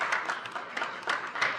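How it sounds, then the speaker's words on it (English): Brief burst of audience clapping at a school district stock show, a scattered patter of hands that swells and fades over under two seconds, moderately distant. "please give everybody a round of applause for putting the show on"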